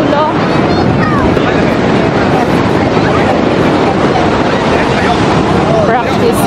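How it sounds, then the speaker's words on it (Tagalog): Strong surf at San Juan Beach, La Union, in rainy weather roars loudly and continuously, mixed with heavy wind buffeting against the microphone and faint voices underneath. "Yan o, lakas ng alon."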